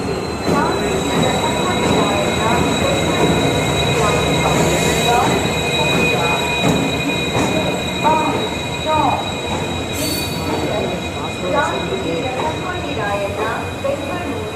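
Yeswantpur-Vasco Express pulling into Hubli Junction on Indian Railways, loud and close, with steady rumbling wheels and metallic squeals, plus station announcements and voices in the background.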